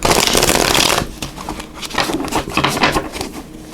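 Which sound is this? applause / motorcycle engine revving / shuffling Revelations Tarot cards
shuffling Revelations Tarot cards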